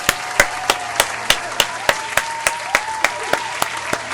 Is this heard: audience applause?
yes